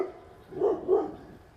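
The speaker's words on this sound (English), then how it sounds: "that would be the neighbor dogs chasing cars again" Neighbouring dogs chasing cars bark twice in quick succession at a moderate distance, the short woofs standing out against a quiet outdoor background.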